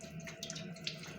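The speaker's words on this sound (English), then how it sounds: "gotta wash my hands" Tap water runs from a kitchen faucet as hands are washed during home cooking, a steady close wash of splashing with a few brighter spatters.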